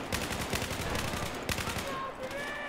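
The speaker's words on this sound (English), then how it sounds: "How are they shooting at me?" Rapid automatic gunfire from the video game Battlefield 4 rattles in a dense, steady burst, with one sharper crack partway through, then fades into quieter background noise.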